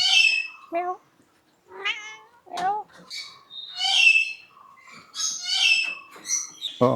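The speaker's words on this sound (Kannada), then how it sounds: "Persian cat sir. Persian cat white ಇದು." A white Persian cat meows repeatedly at close range, giving a run of short, rising and falling cries with brief pauses between them.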